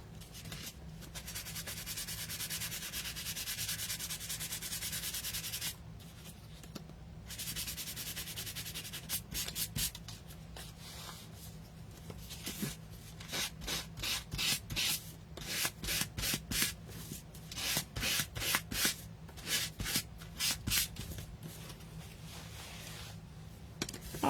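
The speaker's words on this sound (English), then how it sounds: "We're going to give them a light sanding with our 220 grit sandpaper." Light hand sanding with 220 grit sandpaper on iced cookies, a steady soft rubbing hiss that breaks into quicker back-and-forth strokes, close and alone with no talking.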